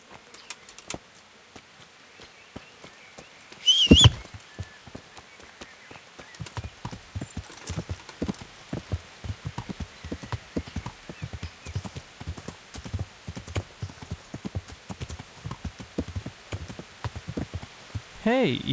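A horse's hooves clip-clop in a steady, rhythmic gait in the video game Kingdom Come Deliverance, over a soft background hiss. A brief loud burst comes early, before the hoofbeats settle into a continuous trot.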